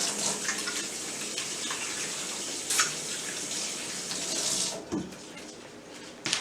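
A kitchen tap runs steadily as hands are washed, a close rushing hiss of water with brief splashes and changes in flow, no speech over it.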